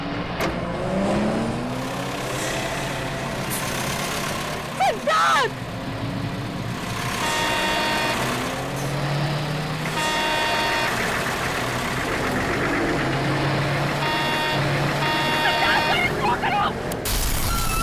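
A car engine runs steadily as the car drives, with engine hum and revving swells throughout and a voice speaking briefly over it.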